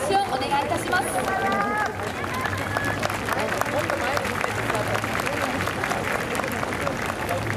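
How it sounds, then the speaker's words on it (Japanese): An audience claps steadily at a sailing award ceremony in Kobe, the dense, even applause continuing throughout with faint crowd murmur underneath. "皆様今一度大きな拍手をお願いいたします。"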